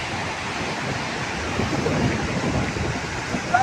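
Sea waves at Nagtabon Beach, Palawan, a soft, continuous wash of surf with some wind noise, steady and fairly faint with no talking.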